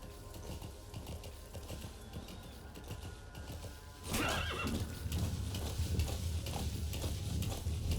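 D-Horse in the video game Metal Gear Solid V gives a loud neigh followed by steady clip-clopping hooves as it gallops, the sound jumping up sharply partway through and staying busy to the end.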